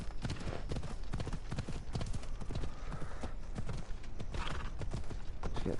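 Horse hooves clip-clop steadily in Assassin's Creed Odyssey, a quick, continuous rhythm of close game hoofbeats with a faint whinny and some voice in the background.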